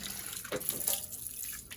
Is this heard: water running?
yes